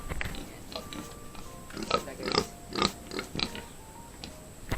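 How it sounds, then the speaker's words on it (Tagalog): Low grunts and snorts from a native black pig, several short irregular bursts close by over a steady background hum. "ito po pala yung baboy na native, yung maitim"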